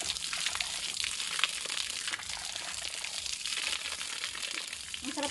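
Water flowing steadily outdoors, a broad continuous rush with crinkly splashing texture, fairly close and loud with no break throughout.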